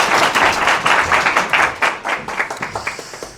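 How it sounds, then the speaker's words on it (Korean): A lecture audience at Kookmin University claps to welcome a speaker, with dense, loud applause that gradually thins into scattered individual claps. "큰 박수로 맞이해 주세요"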